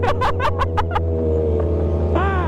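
Kawasaki ZX25R with a Toce exhaust revving hard, a rapid string of five or six sharp blips over a steady low engine drone, close and loud, followed by a rising rev near the end.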